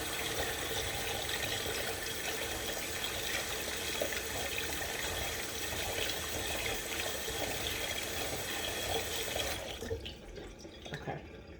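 A running kitchen tap pours steadily while something is rinsed under it during cabbage casserole preparation, a broad close splashing wash that cuts off near the end, leaving quieter room sound.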